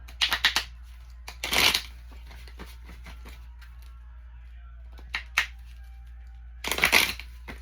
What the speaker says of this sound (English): Got the cards. We're going to shuffle.